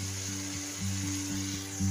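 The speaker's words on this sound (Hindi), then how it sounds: "एक मिनट के लिए हमने अच्छे से मटन को भून ली है खीमे की" Minced mutton keema frying in a pan, with a soft continuous sizzle under a steady background hum and faint repeated stirring knocks.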